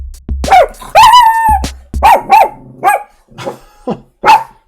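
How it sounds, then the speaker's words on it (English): A dog barking loudly and close, reacting to music played at 100 BPM, a run of sharp yips and barks in quick irregular bursts, some drawn out into whining howls. "The dog did not like it at 100 BPMs."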